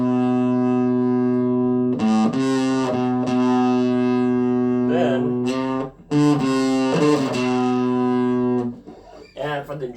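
Distorted electric guitar through an amp with the drive's gain maxed, bass and treble at 9, playing a theme from Dragon Ball Super: loud sustained buzzing notes with a few quick note changes and brief breaks, ending in a fade.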